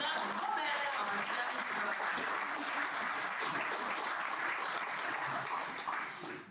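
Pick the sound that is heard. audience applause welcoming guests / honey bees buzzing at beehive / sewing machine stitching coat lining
audience applause welcoming guests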